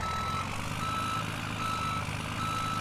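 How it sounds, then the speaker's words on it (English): A heavy truck in Farming Simulator 17 drives over piles, its engine droning steadily with a persistent high reversing-beep tone above, loud and continuous throughout. "So let's kind of drive over it with a very heavy truck."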